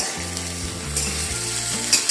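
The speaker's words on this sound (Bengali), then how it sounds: "মিডিয়াম টু হাই ফ্লেমে এগুলোকে একটু নাড়াচাড়া করে নেব" Vegetables sizzle loudly in a hot pan over medium-to-high flame with continuous crackling, a low steady hum of the stove running beneath.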